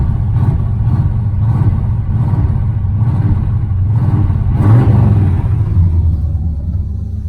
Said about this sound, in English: they don't have a choke, so man, that engine sounds good